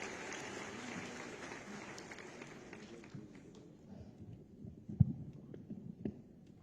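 Audience clapping at a government event launching a school enrolment and disease-control campaign, a quiet, dense patter of many hands fading over several seconds, with a few louder isolated claps near the end.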